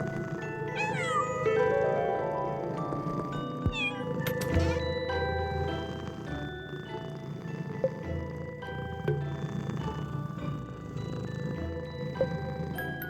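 Cartoonish cat meows ring out in the Pocket Mirror horror game, a few rising, wavering calls early on over a steady musical backdrop, with softer purring and cat noises continuing behind the score.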